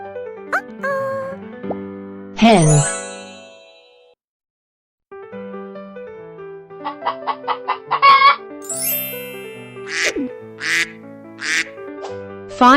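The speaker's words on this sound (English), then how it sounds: "Hen." A hen clucks in a children's animal-learning cartoon, with bursts of short rhythmic clucks mixed with duck quacks, plops and other bright sound effects, broken by a brief silence.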